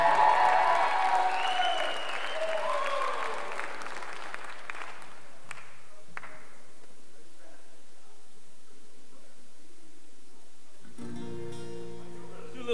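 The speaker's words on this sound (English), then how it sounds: "So give them a round of applause if you could." Audience applause at a live orchestra CD release show, loud at the start and fading over the first few seconds into quieter room sound, before a band starts up near the end.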